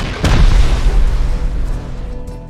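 A rocket explosion in the video game Rust lands as one sharp, loud boom with a deep rumbling tail that slowly fades.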